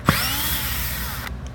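A power drill runs continuously at close range while removing screws from an end assembly, its whine steady and loud, then it cuts out near the end.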